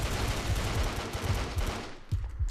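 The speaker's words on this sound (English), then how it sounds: "burst fire actually works" Rapid burst-fire gunshots from a weapon in the blocky shooter game Brick-Force rattle out loud and dense, barely pausing over the short stretch before tapering slightly.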